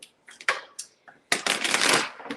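A deck of oracle cards being shuffled close by, with two short riffles in the first second and then one longer, louder riffling burst lasting nearly a second, no talking over it.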